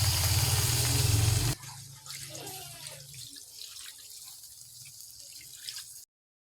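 Water pours steadily into a pot of fish stew with banana and pechay leaves, a loud rushing stream for about a second and a half, followed by quieter sloshing and light clatter in the pot.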